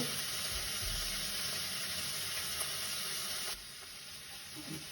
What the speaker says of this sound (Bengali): ছোট্ট এক চামচ জিরে ফোড়ন দিলাম পেঁয়াজ দিয়ে দিলাম আস্তে আস্তে মেরে এটাকে একটু ব্রাউন করব